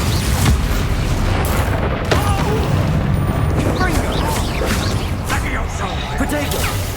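Booming spell blasts and crashes from the Bombarda explosion in the Hogwarts Legacy video game, dense combat noise with repeated impacts under shouted spell voices.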